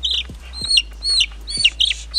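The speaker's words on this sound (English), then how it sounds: "This is my chicken." A hen with a broken foot on a Jamaican farm clucks close by in a repeated series of sharp, bright calls, each a short pulse, alone over a low steady hum.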